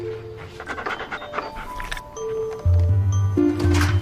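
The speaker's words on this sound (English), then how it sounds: "Good dog." A dog pants rapidly and close by, its breaths forming a steady rhythm. Sustained musical tones run underneath and grow louder near the end.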